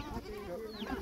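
A goat bleats close by at a rural farm where goats are kept, a short wavering cry rising over faint background noise, with no talk.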